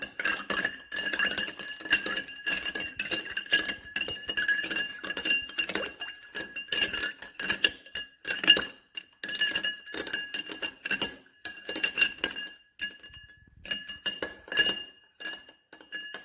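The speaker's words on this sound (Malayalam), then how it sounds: "നല്ലതുപോലെ മിക്സ് ആകാൻ വേണ്ടിയിട്ട് നല്ലതുപോലെ ഇളക്കി കൊടുക്കണം." A spoon stirs vodka punch in a glass, giving a steady run of close, bright clinks and taps with short pauses, and no voices over it.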